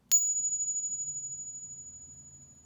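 A Morgan silver dollar balanced on a fingertip is struck and gives a single bright, high metallic ping that rings on as a steady tone and fades gradually over a couple of seconds, with faint background noise.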